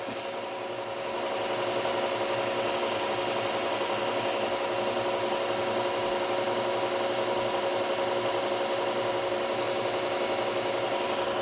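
Grass clipper blade being sharpened, a continuous rasping scrape of abrasive on metal that starts softly and then holds steady and even for about ten seconds, with a faint tonal ring underneath.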